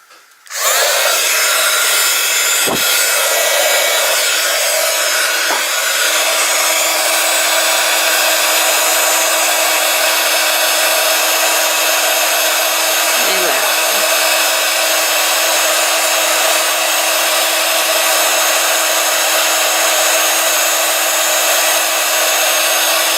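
A heat gun blasts steadily over an art journal page, a loud, continuous airy roar with a constant motor whine that starts abruptly and runs unbroken for over twenty seconds, with a couple of faint knocks and no speech.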